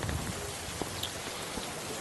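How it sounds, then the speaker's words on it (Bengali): Heavy rain pours outside in a steady, dense hiss with no pause, drops spattering evenly across surfaces throughout. "বাইরে বৃষ্টির প্রকোপ তখন বেড়েছে প্রচুর বৃষ্টি হচ্ছে"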